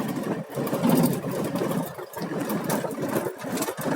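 A car engine hums steadily while driving in fifth gear along a rough, potholed highway, with broadband road and wind noise throughout and a few brief thumps over bumps.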